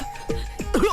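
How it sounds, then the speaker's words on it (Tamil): A man gives a few short, rough coughs close by, broken into quick bursts with brief pauses between them. "இருமல் வேற அவருக்கு."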